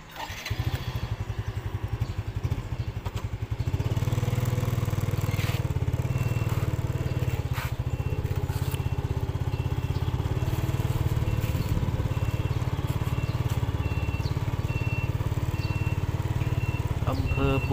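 A motorcycle rides through the town of Bua Yai in Nakhon Ratchasima, northeast Thailand, with a constant loud, close engine drone and road rumble that grows stronger after the first few seconds and continues without letup.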